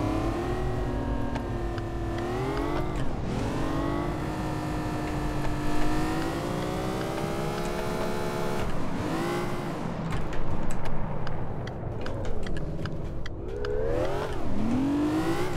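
Lamborghini Reventon engine in the City Car Driving game, a steady loud revving drone with rising and falling pitch sweeps as it accelerates and shifts, continuous throughout with no talking.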